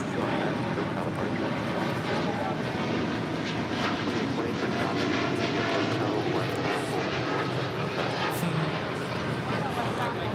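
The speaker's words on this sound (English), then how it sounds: "This is United Airlines 1897 taking off to Chicago here on a 787-10 Dreamliner." A United Airlines Boeing 787-10 Dreamliner takes off at LAX, a sustained, rumbling jet roar that stays loud and even throughout, with wind buffeting and a voice talking faintly underneath.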